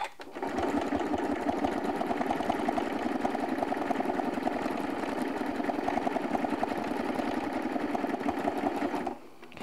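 A sewing machine stitching with invisible thread runs in one steady, fast, rapid-fire mechanical chatter for about nine seconds, close and even, starting and stopping abruptly.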